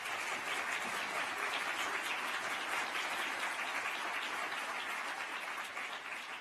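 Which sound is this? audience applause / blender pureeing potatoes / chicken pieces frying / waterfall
audience applause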